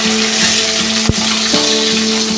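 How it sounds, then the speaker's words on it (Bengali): Fish head frying in mustard oil in a pan, a steady loud sizzle that runs throughout with a sharp clack of a utensil partway through and no talk. "এবার মাছের মাথাটা দিয়ে দিলাম। এটা 2 পিঠ লাল করে ভেজে নেব,"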